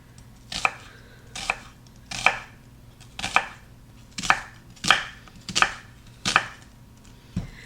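A knife cuts an onion on a board, first halving it and then slicing along its lines, in about nine crisp, evenly spaced chops close by with no talking.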